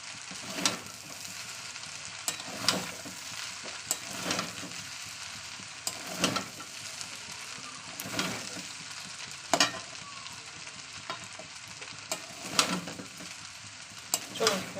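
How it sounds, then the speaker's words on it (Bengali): A spoon stirs and mixes food frying in a pan at home, with repeated scraping strokes every second or two over a steady, moderate sizzle; no talking. "এটাকে ভালো করে পুরো মিশিয়ে দেবো।"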